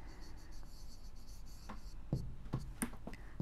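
Pen or marker writing on a surface during a geometry lesson on quadrilaterals, a few soft scratchy strokes and taps close by, fairly quiet, with no talking.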